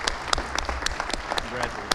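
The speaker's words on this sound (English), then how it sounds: "Round of applause for the judge." An indoor audience at the Town of Wappinger inauguration ceremony gives the judge a short burst of scattered, close clapping.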